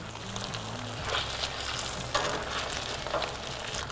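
Grated potato pancakes (Reibekuchen) frying in oil in a basket on an open grill, giving a steady, dense crackling sizzle with a brief low hum at the start.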